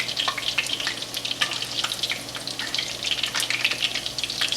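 Italian meatballs fry in a pan with a close, busy sizzle full of sharp pops and crackles that keeps going throughout.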